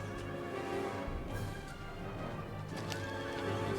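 Cavalry horses in the Empire: Total War video game neigh and whinny loudly over a dense backdrop of clip-clopping hooves and battle noise, with several overlapping calls throughout.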